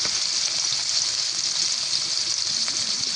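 Onion and garlic paste fries in hot oil, giving a continuous, even hiss that stays close and fairly loud for a few seconds with no voices.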